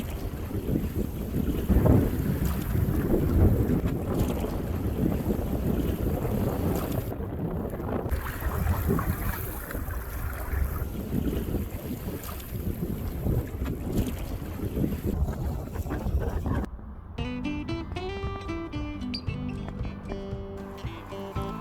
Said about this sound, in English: the wind slowly crept up on us from behind